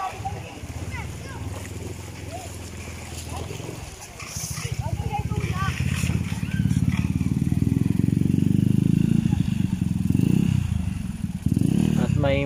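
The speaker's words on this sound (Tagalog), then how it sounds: "At may motor din pala dito guys na tatawid, kaya niya po." A motorcycle engine rumbles nearby as it crosses a river in Rizal, Philippines, growing louder and steadier partway through, with people talking and water splashing around it.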